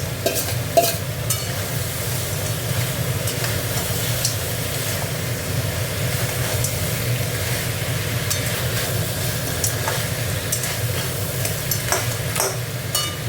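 Crabs frying in a pan give a steady, dense sizzle with scattered crackles and pops, continuous and fairly close throughout, with no talking.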